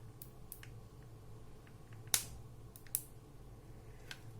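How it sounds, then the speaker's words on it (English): Hot glue laid on the underside of a cardstock base for a paper pencil holder, with air bubbles giving a few faint, sharp, scattered pops in a quiet room. "these are basically the sounds of hot glue air bubbles popping"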